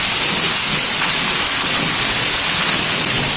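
Heavy rain pouring down in a dense, loud, continuous hiss, steady and close throughout with no voices.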